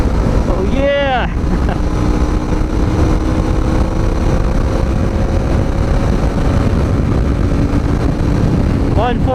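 An FKM Falcon X400 motorcycle roars at high speed on a highway, with heavy wind buffeting and steady engine drone throughout, loud and close to the rider.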